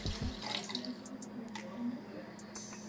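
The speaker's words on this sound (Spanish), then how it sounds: "Vierto el agua en la olla de cocimiento lento." Water is poured into a slow cooker for cooking beans, a soft splashing trickle with a few brief drips and clinks, fairly quiet throughout.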